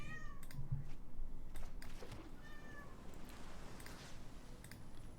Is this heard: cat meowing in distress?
yes